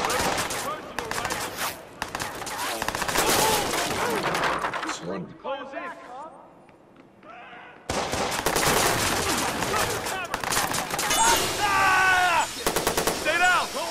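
Automatic gunfire in the video game Watch Dogs, dense bursts of rapid shots with a brief lull in the middle, mixed with voices talking over the action.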